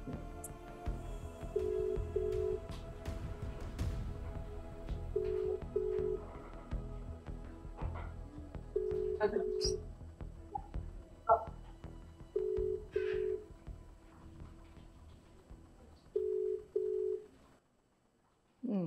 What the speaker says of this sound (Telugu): ఇది రింగ్ అవుతుంది, చూద్దాం.